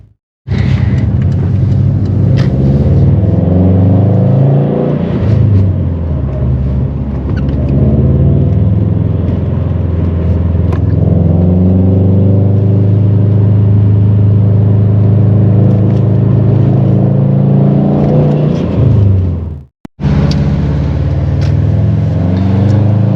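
A Subaru WRX STI accelerates hard through the gears from inside the cabin, a loud rumbling engine rising and falling in pitch with each shift, a brief cut near the end before the engine note returns.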